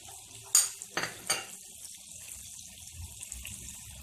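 Water goes into a pot of frying chicken for biryani: a sharp metallic clank, then two short splashy pours close by, followed by a quiet simmering hiss.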